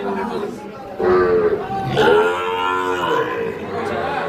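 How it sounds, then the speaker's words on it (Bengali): A Sahiwal bull calf at a cattle market gives long, loud moos that rise and sustain, with a second call following, heard close amid background chatter and crowd noise. "এটা একটা সার বাছুর সাইওয়ালের"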